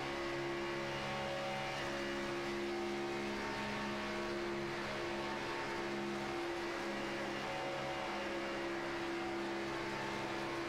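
Race cars in a racing video game drone on steadily as a long train of engine tones, moderately loud, with a constant layered hum and no breaks.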